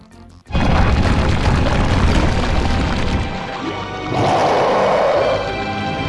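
A bomb in the Super Luigi Galaxy video game goes off with a sudden loud boom, followed by a sustained crashing, rumbling roar and a second burst of debris-like crackle several seconds later.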